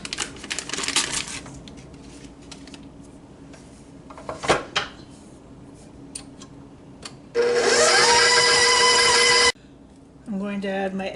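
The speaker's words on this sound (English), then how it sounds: "I'm going to add my sugar and my butter, and I'm going to beat these until fluffy" An electric mixer beats sugar and butter until fluffy for sugar cookie dough, a steady loud motor whir running about two seconds near the end, with kitchen clatter and a voice talking before it.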